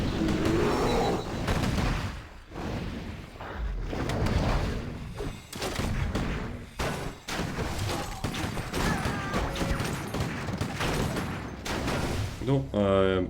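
Rapid bursts of rifleman fire in Warcraft 3 Reforged crackle almost continuously, dense and loud, with brief pauses between volleys.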